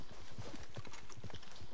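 Rapid rhythmic clip-clop of horse hooves at a gallop in the video game Red Dead, close and steady over a constant background hum.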